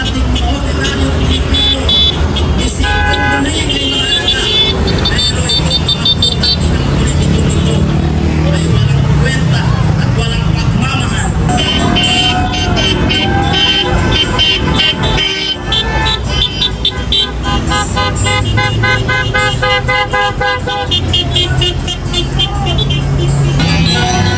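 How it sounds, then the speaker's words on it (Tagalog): Many car horns honk repeatedly in short toots and longer blasts at an anti-corruption protest, loud and close, over traffic noise and a crowd's chatter. "Busina laban korupsyon"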